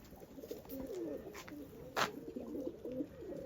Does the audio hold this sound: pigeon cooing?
yes